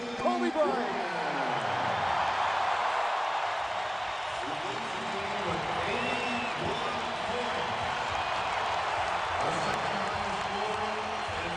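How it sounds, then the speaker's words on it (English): A basketball arena crowd roars steadily for Kobe Bryant during a Lakers versus Raptors NBA game, a dense, sustained wash of cheering with a commentator talking over it. "And listen to this crowd for number 8, Kobe Bryant"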